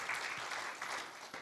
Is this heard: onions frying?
no